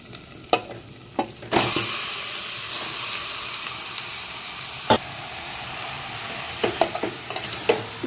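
Chicken pieces hit hot oil in a pan with a sudden loud sizzle, then fry with a steady hissing crackle while a spatula scrapes and clinks against the pan now and then, close up.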